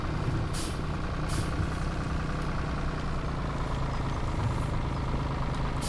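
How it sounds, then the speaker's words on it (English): A tractor engine running steadily as the machine drives into a shed bay, a continuous mid-loud diesel drone with a few brief hissing bursts on top. "So this tractor can go into this bay."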